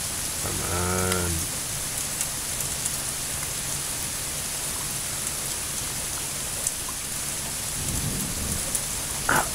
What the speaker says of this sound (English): Ah, thunder.